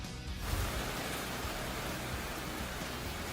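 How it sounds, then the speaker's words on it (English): Heavy monsoon rain pours down steadily near Maricopa, Arizona, a dense, constant hiss of water hitting surfaces close by, with no voices. "And just listen to that heavy rain coming down near Maricopa"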